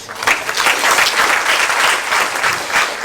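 An audience applauds at a stage drama event, a sustained, fairly full wash of clapping in a hall that pulses slightly and carries on steadily without speech.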